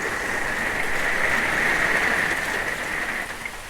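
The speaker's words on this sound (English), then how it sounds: "It literally started raining just as I recorded your pile." Rain falls steadily outside, a dense continuous hiss of drops on surfaces, loud and unbroken, easing slightly toward the end, with no voices.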